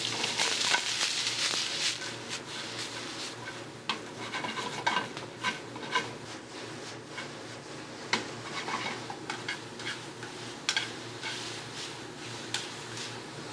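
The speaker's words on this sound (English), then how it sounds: "going to saute our vegetables in a little bit of bacon fat" Julienned apple, celery root, shiitake mushrooms and Vidalia onions are sautéed in bacon fat, with a soft sizzle beneath repeated stirring and occasional utensil clicks against the pan, close by and with no talking.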